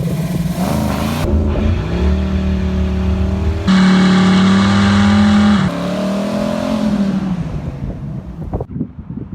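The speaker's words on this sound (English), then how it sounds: "the best way to stir up the oil is to do a nice smoky burnout" A Chevrolet Nova, a Chevy II, roars through a smoky burnout after an oil change, its engine revving hard and loud with shifting pitch, gear changes and wind buffeting the microphone up close.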